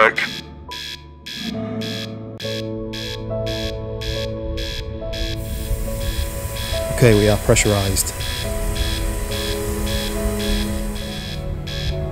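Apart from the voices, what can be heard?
power alarm in a space video game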